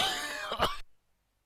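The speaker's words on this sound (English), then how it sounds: "The irritating cough" A throat-clearing cough, one rough burst of harsh noise up close, ending in silence.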